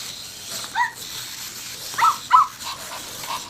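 Zoomer robotic toy dog giving a few small, thin electronic yips and barks at irregular moments, faint and close over a steady background hiss.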